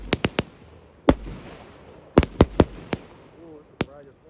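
Mortar fireworks burst at a crowded fireworks night at Muckleshoot, a rapid series of sharp booming cracks, some back to back in quick clusters, fairly close, with faint crowd voices between blasts.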